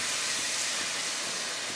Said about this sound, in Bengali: এটা আমি জল দিয়ে দিয়ে ভাজব।